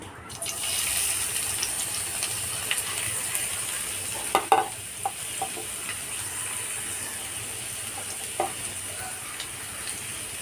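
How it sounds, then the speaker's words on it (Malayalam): Crushed shallots and garlic fry in hot coconut oil, giving a steady close sizzle with faint stirring and a few brief clinks, no talk. "ഇനി ഇതിലേക്ക് ഞാൻ ചതച്ച് വെച്ച ചെറിയ ഉള്ളി വെളുത്തുള്ളി ഇട്ട് കൊടുക്കുന്നുണ്ട്"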